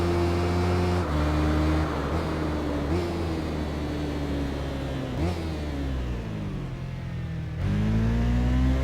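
A Suzuki GSX 1400 motorcycle engine in the racing game Tourist Trophy revs steadily and loudly, its pitch dropping with each gear change at roughly one-second intervals, then climbing again toward the end.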